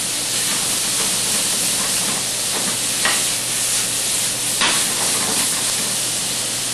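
Vegetables and garlic fry in a hot pan for pasta frita while being stirred, a loud continuous sizzle with a few scraping stir strokes cutting through.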